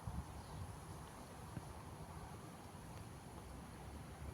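Low, steady rumble of wind buffeting outdoors near beehives, a continuous faint roar with occasional soft gusts and no voices.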